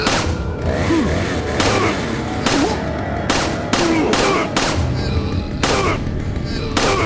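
Rapid, loud video-game gunfire, repeated shots and booming bursts coming in regular sharp strikes, continuous over someone talking throughout.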